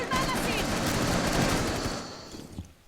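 Video game gunfire rattles in continuous automatic bursts, dense and loud, then tails off toward the end, with a player's voice faintly mixed in.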